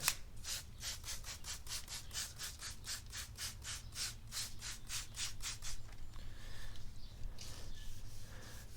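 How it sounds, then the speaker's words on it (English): A wet 5000 grit pad rubs back and forth over a 2006 Subaru WRX headlight lens, making steady rhythmic rasping strokes close up, about twenty in a row, before the scrubbing fades to softer, irregular rubbing. "Then we'll move up to our 5000 grit sanding pad."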